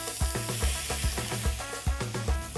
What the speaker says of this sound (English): We trimmed the silver skin and simply gonna sear it.